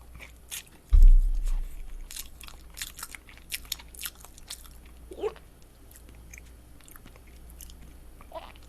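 Someone eats a butter lettering cake, with soft close chewing and light mouth sounds after one louder bump near the start, no talk.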